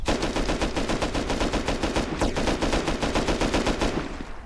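Rapid automatic gunfire from the survival game Rust rattles in a fast, even burst of loud shots that continues for several seconds before stopping abruptly.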